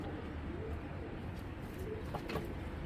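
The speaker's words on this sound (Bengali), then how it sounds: "পুরান জাতের একটা বুড়া কবুতর" Soft, low coos from an old pigeon of a traditional breed sound faintly against a steady background hum, a few brief calls without talking.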